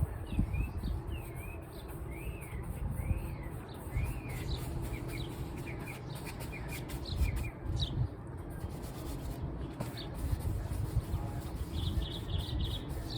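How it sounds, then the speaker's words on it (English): Faint bird chirps and short tweets come repeatedly in the distance on a sunny day outdoors, over a soft, scratchy brushing noise close by as liquid white paint is applied to a canvas. "You can hear the birds chirping."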